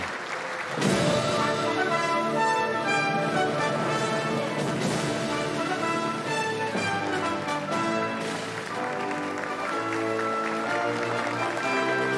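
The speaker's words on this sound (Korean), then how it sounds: "큰 박수로 환영해 주시기 바랍니다" Applause and cheering at the 21st presidential inauguration oath ceremony in the National Assembly rotunda as the president and spouse enter, a dense sustained wash over music.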